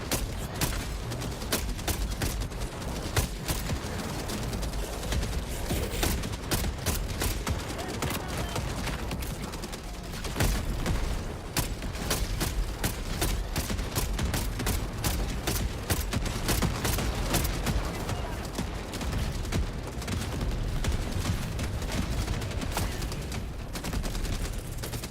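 Hyena DMR rifle fire in a video game, rapid repeated sharp shots in dense bursts over about twenty-five seconds, loud and close, mixed with other gunfire and occasional voices.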